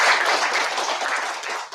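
Church congregation applauding together, a dense burst of clapping from many hands close by, steady for a moment and then tapering at the end.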